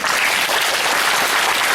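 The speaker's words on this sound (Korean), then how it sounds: "유승민님께 다시 한번 박수 부탁드리겠습니다" Steady, dense applause from an audience at a political lecture in a hall in Sangye-dong, Nowon, Seoul, loud and continuous throughout.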